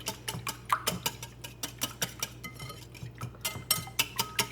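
Egg mixture for French toast being whisked in a bowl, a quick regular run of light clinking taps from the whisk against the side, close and steady for a few seconds with no talk.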